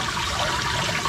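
Water from a koi pond sieve filter pours into a gutter in a steady, close, continuous rushing trickle, with no voices.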